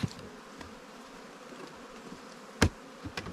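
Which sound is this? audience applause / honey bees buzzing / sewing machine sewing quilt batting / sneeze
honey bees buzzing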